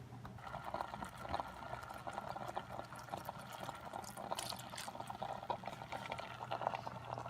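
Naturally brewed Kikkoman soy sauce is poured into a pan of cooking onions, giving a steady, faint liquid trickle mixed with soft sizzling and small crackles that continue evenly throughout.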